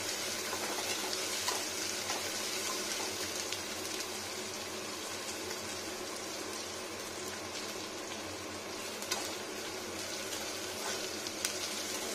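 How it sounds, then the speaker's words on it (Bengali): Ginger, onion, garlic and green chilli fry in oil in a pan with a continuous close sizzle and faint intermittent stirring, steady throughout with no talk. "ভালো করে কষিয়ে নিচ্ছি আদা, পেঁয়াজ, রসুন।"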